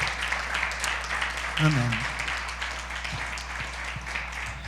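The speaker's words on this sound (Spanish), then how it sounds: "¿Alguien le puede dar un aplauso al Señor?" A church congregation claps in praise during a sermon. The applause is a dense, steady patter at moderate distance, with a voice speaking over it.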